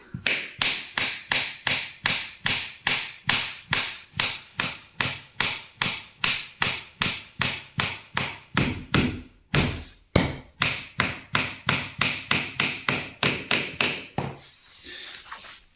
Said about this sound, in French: On va la faire avancer avec un petit coup de marteau.